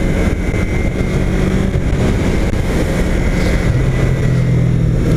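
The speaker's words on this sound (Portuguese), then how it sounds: "O motor dela fala muito alto." A Yamaha R3 motorcycle engine roars loudly and close by, a steady throaty rumble that revs and shifts pitch, with no talking.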